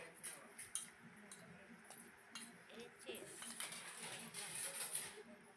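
A spoon clinks and scrapes faintly against a bowl while stirring chilli powder into mango pickle, with small irregular taps and soft background voices.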